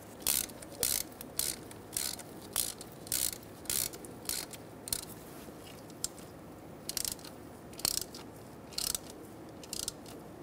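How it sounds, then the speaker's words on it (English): Ratchet tightening a bolt on the front ABS wheel speed sensor of a 2004-2009 Mazda 3 2.3L, heard as bursts of quick metallic clicking that repeat steadily in short strokes, close and clear with no talk. "Now that it's in, we're going to start our bolt."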